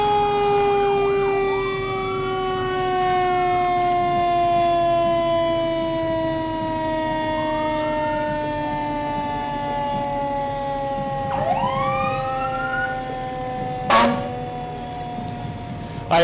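A fire engine ladder truck in a holiday parade blares its wailing siren, a long descending tone with rising whoops, then blasts its air horns in loud sharp bursts near the end.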